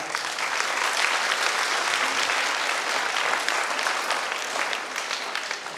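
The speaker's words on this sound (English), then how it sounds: "Let us give a big clap." Sustained audience applause at an in-person gathering, a dense, steady wash of many hands clapping that holds at an even, loud level for several seconds before easing slightly at the end.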